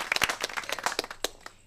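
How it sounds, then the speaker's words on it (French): Scattered claps from a party audience, fairly faint and sparse, with individual sharp hand claps standing out unevenly rather than forming a full ovation. "Applaudissez très fort pour lui"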